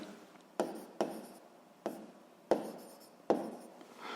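A pen writes on paper while a physics exercise is worked, with five distinct, crisp strokes spaced irregularly over a quiet room background.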